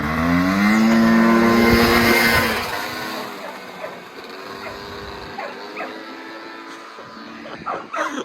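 The garage's new buggy revs its engine close by with a loud, harmonic roar that swells and then drops away to a rougher idle, broken by short blips of throttle near the end.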